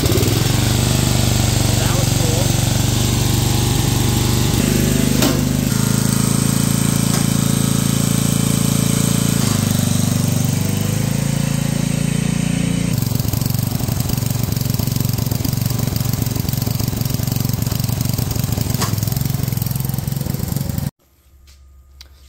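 A small engine on a decades-old childhood ATV-style lawn mower runs loud and close with a rough, throbbing idle, shifting pitch as the throttle changes, then abruptly shuts off near the end.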